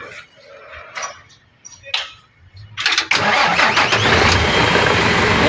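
An Isuzu 6WG1 diesel engine cranks and catches, settling into a loud, steady, smoky-sounding idle that fills the rest of the clip after a few short clunks and brief voices.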